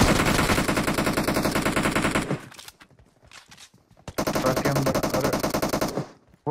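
Rapid automatic gunfire in the BGMI battle game with an MG3 and M416, loud close bursts of tightly spaced shots, a short pause with a few scattered rounds, then another long burst, and no voices.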